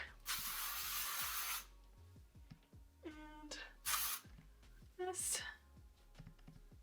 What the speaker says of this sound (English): The Rising Star Volumizing Finishing Spray